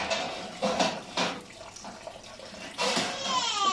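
Boiling water from cooked chickpeas is poured into a cooking pan in a home kitchen, giving several close, splashy pouring bursts separated by short pauses.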